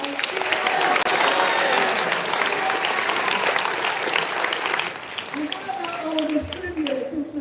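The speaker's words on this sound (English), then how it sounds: "Give them a big round of applause." Audience applauds a choir at a school Black History assembly, steady dense clapping across the room that thins slightly near the end as a few voices murmur.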